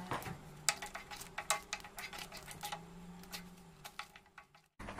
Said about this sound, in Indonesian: bubur sumsum tepung ketannya sudah meletup-letup nih